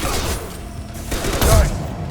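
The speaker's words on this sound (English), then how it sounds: "Firing an impact shot." A single impact shot fires in Mass Effect 2, a heavy burst near the middle of a steady backdrop of game ambience and rumble.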